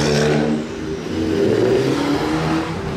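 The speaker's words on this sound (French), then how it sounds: "Il fait des retours d'échappement et tout." A Renault Gordini revs its engine at a busy car-spotting gathering, giving a loud, close, swelling engine roar that dips and rises again over a few seconds.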